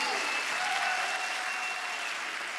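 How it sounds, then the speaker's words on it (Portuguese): Church congregation breaking into steady, dense applause during a sermon, a continuous wash of many hands clapping at even loudness throughout. "Vamos aplaudir aí, gente."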